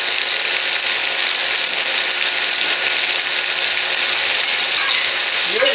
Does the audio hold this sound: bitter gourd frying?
yes